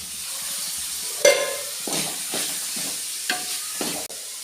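Food fries in a pan with a short, steady sizzle, punctuated by a few scraping strokes of a spoon moving through it, heard close with no talking.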